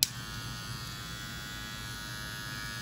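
Wahl Magic Clip hair clippers, freshly fitted with a new battery, run in a steady, even electric buzz from start to finish, close and alone with no voices.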